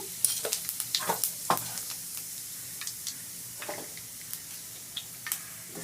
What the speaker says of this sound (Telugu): బాగా వేడికిపోయాక వేస్తున్నాను కొన్ని జీలకర్ర వేసాను